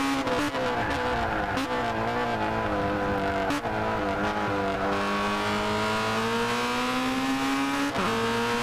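A race car in a junior championship round brakes hard and turns left while descending a steep hill, its engine note dropping through downshifts with brief tire noise, loud and continuous with no talk.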